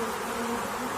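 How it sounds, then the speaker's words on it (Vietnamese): A bee buzzes in a steady, faint, continuous drone with no pauses, heard alone. "con ong,"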